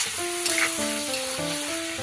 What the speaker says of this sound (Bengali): এটা আমি এখন পুরো ফ্রাই করে নেব